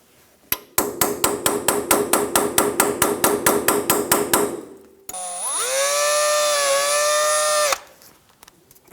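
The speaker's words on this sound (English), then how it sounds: "We're going to hit right here with a hammer and try and shock it and make it pop up." A hammer pounds metal on the ball joint stud of a 2000-2006 Toyota Tundra front suspension, about fifteen evenly spaced ringing blows, followed by a few seconds of a steady high whining tone.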